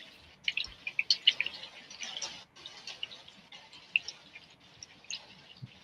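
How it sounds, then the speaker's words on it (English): A faucet drips into an empty sink, a faint, irregular series of small ticking plinks close by. Quiet background hiss sits between the drops. "I'm hearing the sound of like a tap dripping. The faucet dripping into like an empty sink"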